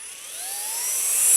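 A Flex power tool's motor revs upward, a close, high-pitched whine that climbs smoothly in pitch and loudness across the short stretch, heard alone with no voices.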